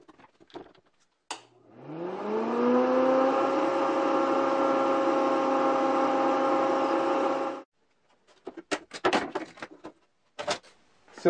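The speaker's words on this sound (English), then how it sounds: "Now let's switch that over to the forward-facing impeller." A blower fitted with a forward-facing impeller, running at about 2,000 RPM, spins up quickly into a steady, loud whirring hum that holds for several seconds and then cuts off abruptly, with brief handling knocks before and after.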